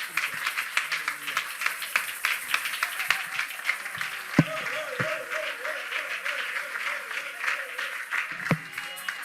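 A church congregation at a Sunday worship service claps steadily and acclaims. The dense, continuous applause runs under voices singing and calling out, with a few sharper claps standing out.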